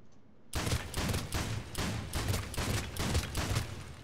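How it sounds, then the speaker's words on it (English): Piranha automatic shotgun in Mass Effect 3 firing a rapid string of about ten blasts in a steady rhythm, loud and close, with no talk over it. "Automatic shotgun. Very nice."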